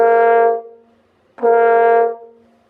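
Two sustained brass notes, each started with an air attack in which the lips make a soft "ba". The first is clean and the second opens with a small burst, both steady and close.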